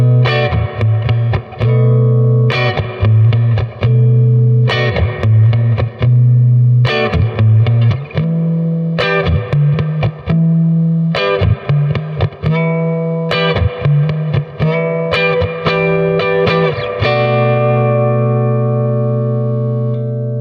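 Loud electric guitar chords from a Fender Mustang through an amp's reverb, played on the neck pickup, strummed in a repeating rhythmic pattern with a reverberant tail that rings out at the end.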